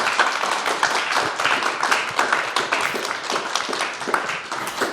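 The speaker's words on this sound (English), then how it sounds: "please, a round of applause for our distinguished speakers" A conference audience claps steadily for its speakers, a dense and sustained round of applause heard close and filling the room.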